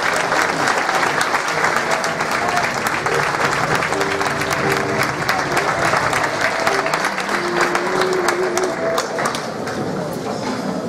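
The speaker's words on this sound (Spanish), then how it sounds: "Un fuerte aplauso también para la Banda Municipal de Música de Tijarafe." An audience claps loudly and steadily for a municipal music band at a Santa Cecilia awards ceremony, a dense sustained burst of applause with brief tonal sounds woven through it.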